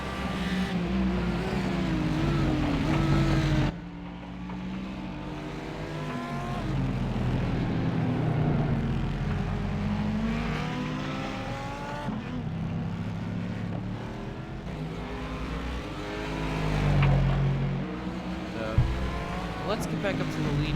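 Sports cars from the American Sports Car Series race side by side at Mid-Ohio, engines droning and shifting pitch steadily at close range while a commentator talks over them throughout.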